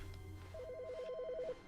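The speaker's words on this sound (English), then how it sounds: "The phone." A telephone rings in The Stanley Parable video game, one quiet warbling electronic trill that lasts about a second against a faint low hum.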